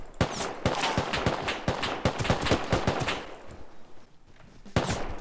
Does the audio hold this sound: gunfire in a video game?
yes